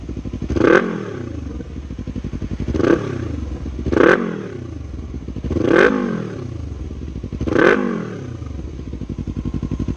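A Yamaha R3 motorcycle fitted with an Akrapovic full system exhaust revs five times in a regular pattern, each blip rising sharply and falling back to a rough, burbling idle, heard up close.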